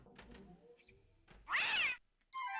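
A cat meowing in the King's Quest 3 Redux video game, one clear drawn-out meow followed by a shorter second cry, separated by quiet gaps with faint game sounds.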